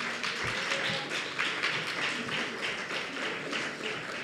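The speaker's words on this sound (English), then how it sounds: "Clap your hands for Jesus." A church congregation claps during a Sunday morning service: steady, dense applause-like clapping fills the room, loud and continuous throughout.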